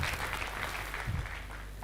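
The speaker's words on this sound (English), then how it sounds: "Don't you think he deserves another heavy hand clap?" An audience applauds at a university freshers' orientation, a thick, continuous wash of clapping heard fairly distant and even across the short stretch.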